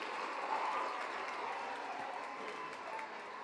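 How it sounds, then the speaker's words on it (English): An audience at a press conference for the Savvy Mrs India 2019 pageant claps steadily to welcome a guest, a sustained patter of applause of moderate loudness, slightly far off. "Can I have a huge round of applause?"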